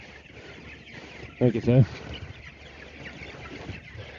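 Chicks being herded out of a shelter onto pasture, with a short burst of close clucking and chirping in the middle, surrounded by steady low background noise and someone speaking.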